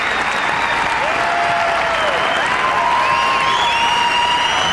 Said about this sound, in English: a huge round of applause for Jumpin' Joe Savavchek